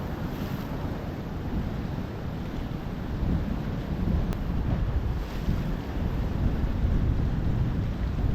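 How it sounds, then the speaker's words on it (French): Heavy, continuous roar of rough, storm-driven sea surf with big swell, gusting wind buffeting the microphone, steady and loud throughout. "Regardez ces vagues."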